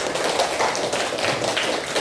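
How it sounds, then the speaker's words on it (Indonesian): A classroom of children clapping their hands together, a dense, steady patter of many overlapping claps close by, with no talking. "Tepuk tangan dong semuanya."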